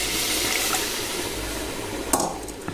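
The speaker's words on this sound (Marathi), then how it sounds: "ह्याच्यात चिकन पूर्ण बडेल तेवढं गरम पाणी टाकून घ्यायचं आहे" Hot water is poured into chicken that has been sautéed in oil and masala in a pan, giving a steady watery rush with faint sizzling, ending in a sharper splash near the close.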